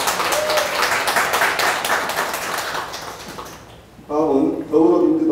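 An indoor crowd at an art exhibition opening at Kyung-In Museum of Fine Art in Insadong gives a dense, even round of applause for a guest, then it fades and a voice speaks.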